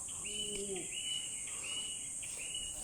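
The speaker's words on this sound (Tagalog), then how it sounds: "Narinig niyo ba yung mga huni ng ibon? Ang ganda di ah." Birds sing in repeated high, thin whistled phrases over a steady insect drone, with a lower warbling call early on; fairly faint and distant.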